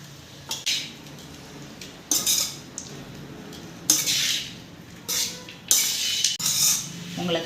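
A spoon stirs tamarind rice in a metal pot, with bursts of scraping and clinking against the sides, several separate strokes spaced a second or so apart. The sound is close and fairly loud, with no talking.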